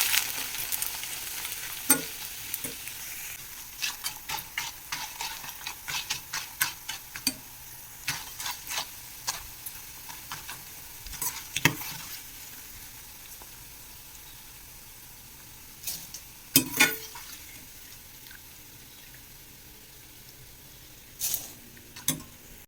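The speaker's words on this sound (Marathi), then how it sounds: "आपण अशा प्रकारे सर्व कॉनचा चिवडा छान असा तळून घेणार आहोत" Corn chivda deep-frying in hot oil gives a continuous sizzle, broken by frequent sharp clicks and scrapes of stirring that come in irregular bursts.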